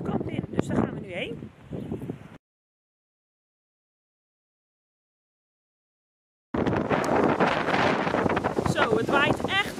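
Strong wind near Heenvliet buffets the microphone in heavy, roaring gusts before and after a stretch of silence.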